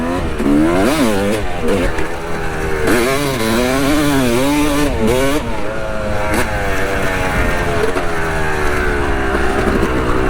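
A Yamaha YZ dirt bike pulls away at Busco Beach, its two-stroke engine revving loud and close with rising and falling pitch as the throttle opens and closes, continuous with no talk.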